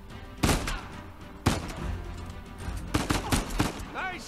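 Loud bursts of gunfire in the video game Uncharted 4: A Thief's End during a ballroom heist, sharp sharp shots at irregular intervals followed by a rattling volley near the end.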